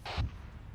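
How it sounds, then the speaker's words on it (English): Incoming gunshot in Arma 3, a single distant crack with a dull low thump and short rumbling tail, faint and alone. "Guys, we had shots coming in from what sounded like the southwest."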